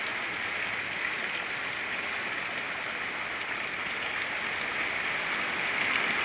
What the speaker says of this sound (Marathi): तर तुम्ही पाहू शकता भरपूर असा पाऊस आणि ह्या ठिकाणी आपल्याला दिसून आला आहे